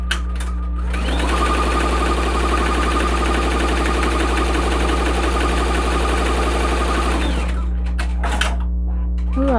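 A Tajima multi-needle embroidery machine stitching a design onto an apron, running with a loud, steady, rapid mechanical chatter and hum that starts, holds for several seconds and then stops, heard close up.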